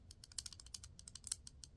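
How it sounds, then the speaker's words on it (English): A cheap stainless King Max assisted-opening knife rattles with quick, irregular metallic clicks and ticks, close and fairly quiet, with no talk over it. "It just rattles to no end, and make the noise it makes opened or closed is just horrible."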